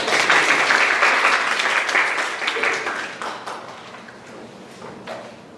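Applause from the audience at a Korean speaking contest for foreign students, dense steady clapping that starts loud and gradually fades.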